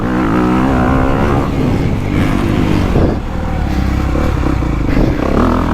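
A 2025 Honda CRF250R four-stroke dirt bike is ridden hard out of a corner on dry, choppy ground, with a loud, steady engine roar and the clatter of the bike over rough terrain close to the recording.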